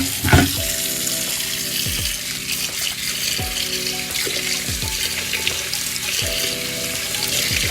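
Hot tap water pours from a faucet into a pacman frog's water bowl, a steady close splashing stream running throughout with a few low knocks and clunks.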